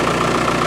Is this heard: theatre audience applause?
no